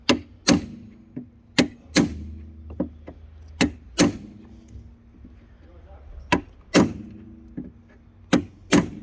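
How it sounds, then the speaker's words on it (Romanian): Sharp metallic hammer blows strike a Ford Fiesta Mk4 rear bumper at an uneven pace, a dozen or so loud knocks ringing out against a quiet background. "Și acum îl lovim cu ciocanul."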